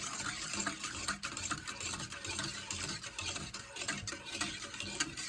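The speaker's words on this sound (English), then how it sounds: "And then I have just a whisk, and I start whisking it." A whisk works cornmeal into broth in a pot, making a steady, close, wet swishing and sloshing that runs without pause, with faint scrapes against the pot's sides.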